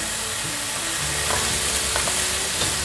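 Long beans stir-frying in a hot pan with a little water, a steady broadband sizzle and hiss running throughout, with occasional scraping strokes of the spatula against the pan; no voices.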